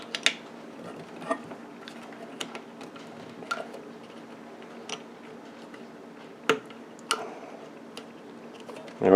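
Several sharp plastic clicks and taps of a cover being pressed and snapped onto a 13.8 V DC power supply, scattered irregularly over a quiet background, with a louder click at the end.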